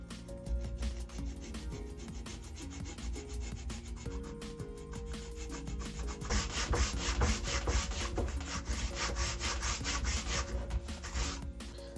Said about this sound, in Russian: Теперь где-то на глубину 7 миллиметров сделаем пропил по центру.